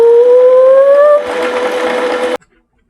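A sewing machine stitches canvas with polyester thread, a loud close motor whine that rises in pitch, then a rapid rattling run of stitches that stops abruptly.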